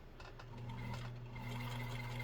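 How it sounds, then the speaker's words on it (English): A Nesco de Luxe push-button zigzag sewing machine winds a bobbin, its motor starting with a few clicks and settling into a steady, quiet hum that holds evenly to the end. "the hand wheel can spin without cycling the rest of the machine and wind your bobbin"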